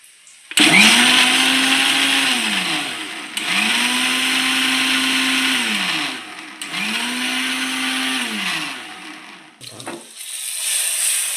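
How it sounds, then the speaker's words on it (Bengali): An electric mixer grinder blends yogurt into a paste in three loud whirring bursts, each spinning up and winding down, followed by a brief clatter and a short fourth burst. "এটা একটু মিক্সচারে আমি পেস্ট করে নেব"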